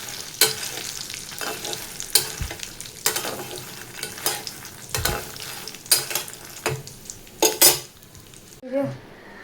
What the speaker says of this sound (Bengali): এদিকে মাখনা ভাজা চলছে